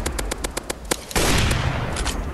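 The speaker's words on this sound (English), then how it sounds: "Who's shooting me?" Gunfire from the mobile shooter Maskgun comes as a rapid rhythmic burst of about eight shots, then a louder booming blast with a washy tail, followed by a couple of faint distant shots.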